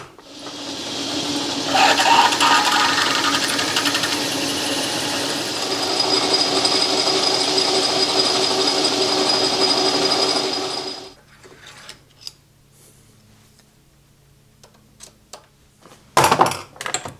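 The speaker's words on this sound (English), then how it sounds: "I'll just ream that out to 3/8 of an inch and put a little flat spot on that shaft" Machining a shaft on a metal lathe setup, reaming a bore to 3/8 inch and milling a small flat, with a loud sustained whirring cut for about ten seconds, then quieter clicks and taps of tooling and a final clatter.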